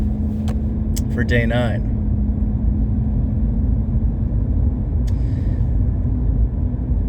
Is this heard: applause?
no